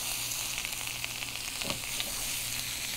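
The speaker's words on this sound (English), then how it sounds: "I'm going to add about 2 onions that I've cut in nice long julienne strips. I'm just going to let that cook down." Onions cut into long julienne strips sizzle in flaxseed oil in a pan, a dense, constant frying hiss with small pops and one soft stirring scrape midway.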